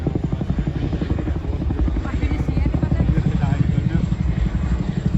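A Chinook twin-rotor helicopter flies at the Ayr air show in Scotland, its heavy rhythmic rotor thump loud and continuous, with a voice speaking over a public address on top of it.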